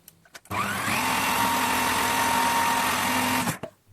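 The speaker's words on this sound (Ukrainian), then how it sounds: "я ложкою його опускаю донизу до ножа і знову включаю блендер" An electric blender grinds cooked beetroot for beetroot caviar, a steady loud whirring motor hum running for about three seconds after a quick start, then cutting off abruptly.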